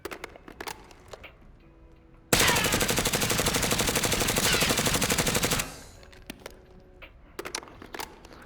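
A SWAT 5.56 rifle in a video game fires one sustained automatic burst lasting about three seconds, loud and steady, with quieter clicks and game sounds before and after.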